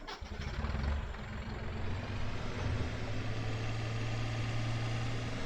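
A tractor engine idles in the Farming Simulator 2017 video game, a steady, loud, low diesel drone that holds evenly throughout with no talking.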